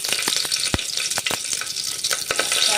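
Fennel seeds, curry leaves, green chillies and onions sautéing in a pan, a bright, constant sizzle close up with repeated sharp scrapes and taps of a spoon stirring against the pan.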